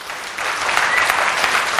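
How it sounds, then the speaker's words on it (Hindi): A lecture-hall audience at a Hindi motivational talk bursts into dense, steady clapping that fills the space evenly for about two seconds, with no voice over it. "ताली बजाओ धमाके से।"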